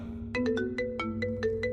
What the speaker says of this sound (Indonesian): Terdengar lagi suara teleponku berdering